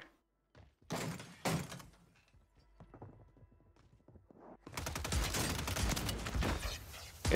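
Gunfire in Warzone 3 on Rebirth Island, from a Reclaimer 18 shotgun: a few sharp thunking shots early, a quieter stretch of clatter, then a sustained loud roar of action at the end.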